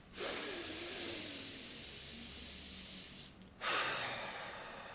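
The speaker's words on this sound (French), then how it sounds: "si tu prends le temps de respirer et que tu le fais de la bonne façon" Slow, deep breathing done as a calm wellness exercise: a long airy inhale followed by a brief pause, then another strong breath, close to the mic with no talk.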